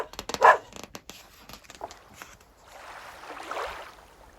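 A dog-bark sound effect in a children's read-aloud story gives one sharp, fairly loud bark. Softer clicks and rustles follow, then a low, breathy swell.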